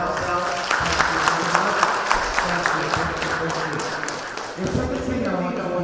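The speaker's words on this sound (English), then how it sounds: "can we get a clap for ourselves?" An audience at a talk on China-Africa modernization and the Standard Gauge Railway claps in scattered, uneven applause under speech before it fades.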